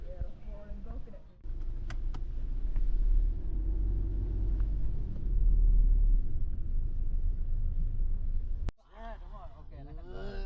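Steady low engine rumble and road noise inside a car driving to the airport in Vietnam, continuous for several seconds, with a voice talking briefly at the start and again at the end.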